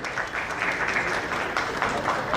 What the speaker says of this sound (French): On va applaudir pour la performance